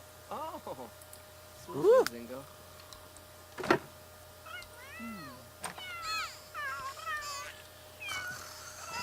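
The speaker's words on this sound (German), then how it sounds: "Es schreien die Katzen." Cats yowl and meow in The Sims 3, a string of separate drawn-out cries and short mews over faint clicking, the calls growing busier toward the end.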